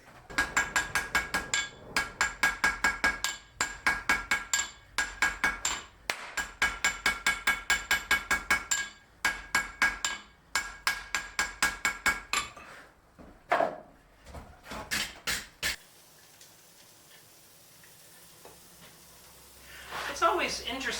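A blacksmith hammers wrought iron dividers during forge welding, with rapid rhythmic clanging blows in repeated bursts. They slow to a few isolated strikes, then give way to a quieter stretch ending with faint clatter.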